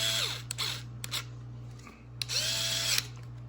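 A power driver snugs screws into a ROVAN X-LT air filter setup, giving short whirring bursts and a couple of longer, steadier runs close by with no talk.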